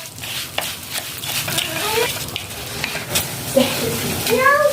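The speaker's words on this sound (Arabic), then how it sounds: "دوك نزيدو نرميو الرز يحمر شويه مع الدويده هاديه" Rice and vermicelli stirred and frying in a pan, a steady sizzle with scraping stir strokes throughout, close and moderately loud.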